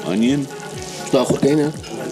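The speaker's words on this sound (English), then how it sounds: "Looks like it was actually cooked in this tagine, judging from the sizzling." Chicken tagine with raisins and onion sizzles in a heavy tagine pot, a close, steady frying crackle with voices murmuring over it.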